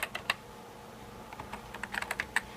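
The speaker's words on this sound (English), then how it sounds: "We'll type in something like Facebook" Typing on the keyboard of a PowerBook G4 Titanium laptop: a quick, irregular run of close, crisp key clicks, some in fast bursts, over a quiet background with no voices.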